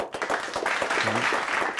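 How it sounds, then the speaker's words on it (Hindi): A brief burst of clapping from a small group in a room, uneven and close, with faint voices mixed in. "ताली बजाओ भाई"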